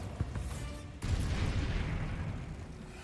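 A Bombarda blasting spell from Hogwarts Legacy bursts with a loud, close explosive boom, a brief pop followed by a sustained roaring rumble that fades slowly.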